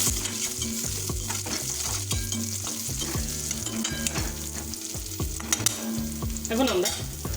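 Shrimp fry in a pan for a bottle gourd leaf bharta, a steady close sizzle with repeated scraping strokes of a spatula keeping a rhythmic stirring beat throughout, no voices.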